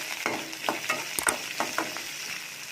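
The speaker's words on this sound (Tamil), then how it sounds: "கடுகு நல்லா பொரிஞ்சதும் அந்த சின்ன வெங்காயம், வரமிளகா, பச்சை மிளகாலாம் போட்டு நல்லா மிக்ஸ் பண்ணி விட்டுக்கலாம்." Shallots with dried red and green chilies are sautéed in hot oil after mustard seeds have popped, for a pumpkin stir-fry. A steady close sizzle runs under repeated scraping stir strokes, with no talk.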